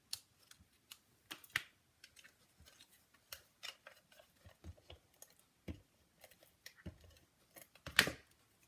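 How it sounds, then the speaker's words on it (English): Scissors trim the edge of stamped paper showing a fern branch, producing scattered quiet close snips and small paper clicks with a sharper cut near the end. "Okay, so I'm going to trim that off."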